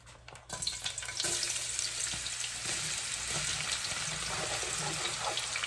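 Sliced onions hit hot palm oil for a stew, a loud steady sizzle and crackle that starts abruptly and keeps going without a break, with no talk over it.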